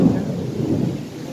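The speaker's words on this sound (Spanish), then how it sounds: "Está tronando y nos vamos a pegar una mojada bastante." Rolling thunder rumbling low and steady from a distance outdoors, heavy and sustained with no voices.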